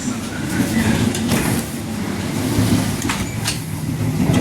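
A Tegal Bahari executive-class train pulls into Bekasi station, heard from inside the carriage as a steady loud rumble with rail clatter and occasional sharp squeals and knocks.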